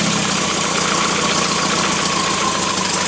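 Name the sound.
MG engine idling at tick over on a test bed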